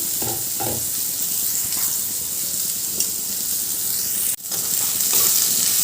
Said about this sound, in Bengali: পটলগুলো বেশ ভাজা ভাজা হয়ে গেছে